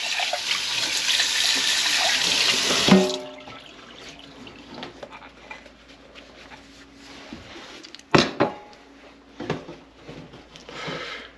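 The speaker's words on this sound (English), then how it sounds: "Rinse that out, get it out of your way." A container is rinsed under a running kitchen tap, a strong rush of water for about three seconds, then quieter knocks and a couple of short splashes as it is set aside.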